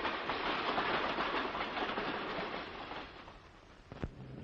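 An ordinary freight train rolls along the rails with a steady broadband rumble and rattle that fades slightly near the end, followed by a brief sharp clank.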